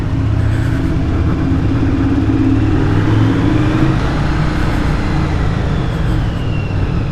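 A 1982 Yamaha Virago 920cc motorcycle engine running steadily, a dense continuous rumble with a slight rise in pitch partway through, loud and close with no speech.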